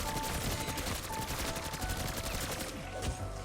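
A KILO rifle in Call of Duty Zombies fires a steady, continuous stream of rapid automatic shots at close range, loud and unbroken before easing off near the end.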